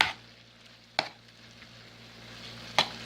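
Ground pork with green and red peppers and onions cooking in a pan, a quiet low sizzle broken by two sharp utensil clacks against the pan.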